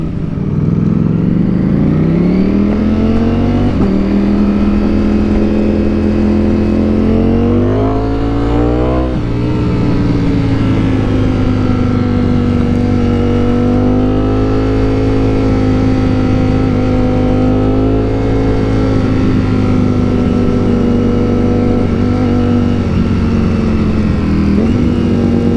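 A 2021 Ducati Streetfighter V4 motorcycle rolls through Miami's design district, its engine droning close and steady with rising and falling pitch as the rider shifts and cruises along the streets.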